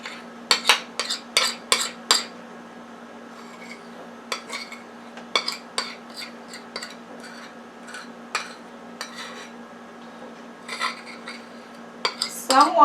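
Chocolate being stirred into cake mix in a bowl for a lemon chocolate marble cake: bursts of spoon clinks and scrapes against the bowl, paused between rounds, over a faint steady hum.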